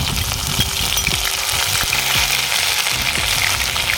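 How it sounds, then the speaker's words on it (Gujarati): Steady sizzling and crackling of cumin and ginger-garlic-chili paste frying in hot oil, close and continuous, with occasional light clinks of a utensil. "તેલ આપણું ગરમ થઈ ગયું છે તેમાં આપણે છે અડધી ચમચી જીરું ઉમેરીશું"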